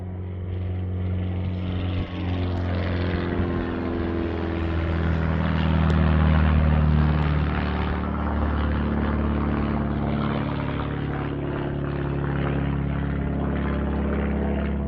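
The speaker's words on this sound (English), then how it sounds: "We're quite close to Duxford Airfield here, so we get a lot of small planes" Small propeller planes fly over near Duxford Airfield, heard from a garden as a steady droning engine hum that swells gradually to a peak midway and then eases slightly, continuous and fairly loud with no talk.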